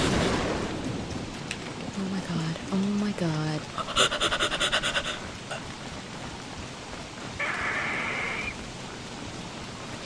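A hailstorm in Don't Starve makes a dense, continuous hiss of pelting hail with low rumbles of thunder, while a voice briefly exclaims and other game sounds chime in.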